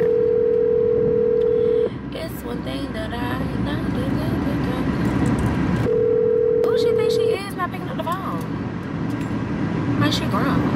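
An unanswered phone call ringing, two long steady ringback tones separated by several seconds, heard over street traffic noise and a person talking nearby.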